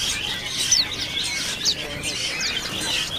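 A Pacitan peleci bird at a bird kiosk gives a few short, high chirps at irregular intervals over a soft background hum of the shop.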